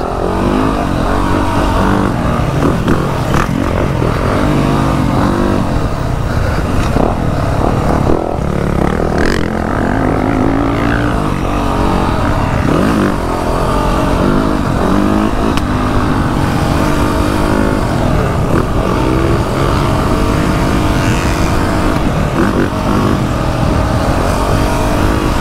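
A Yamaha 250 motocross dirt bike running a lap, its engine loud and close throughout, constantly revving up and dropping back between gear changes and throttle bursts.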